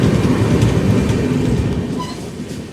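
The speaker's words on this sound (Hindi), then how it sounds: "और ये कौन सी है? वंदे भारत है 26505, ट्रेन नंबर 26505 है," Vande Bharat Express train 26505 rumbling past at close range, a loud continuous roar of wheels and carriages that slowly eases off over a few seconds.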